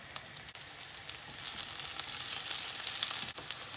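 Chopped garlic added to hot oil in a frying pan, giving a close, steady sizzle with a few soft crackles and no speech.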